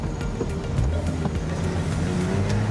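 The engine of a 2019 Porsche 911 Speedster gives a steady, rumbling drone at constant strength, heard up close without any voices.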